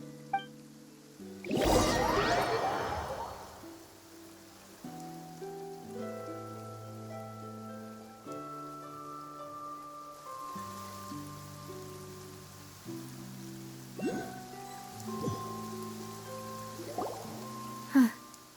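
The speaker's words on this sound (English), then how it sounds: "It's been raining non-stop for a few days now." Steady rain patters through a scene in Genshin Impact, a soft continuous hiss beneath layered game music with occasional bright chimes and splashy accents, with no voices.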